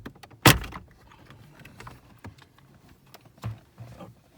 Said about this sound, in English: You can hear the clips clicking off.